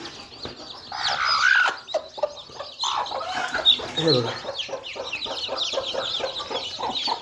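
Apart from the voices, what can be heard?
hen and chicks clucking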